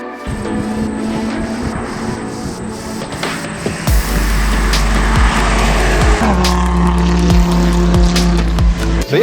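A Hyundai Elantra N fitted with an MST intake laps a race track at an Audi Club track day. The engine drones loudly, with gear changes shifting its pitch, and bursts of tire squeal cut through near the end.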